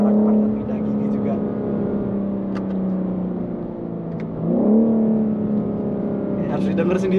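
A BMW M4 Competition in Sport Plus mode with manual gear shifts, its engine droning steadily at loud, close range, then dipping and rising again as a downshift blips the revs.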